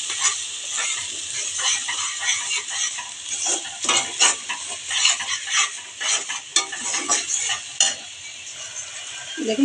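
Masala for a bhangar fish curry is fried with garlic paste in a pan and stirred steadily. A spoon scrapes and clatters close by over a constant hissing sizzle, and no one speaks.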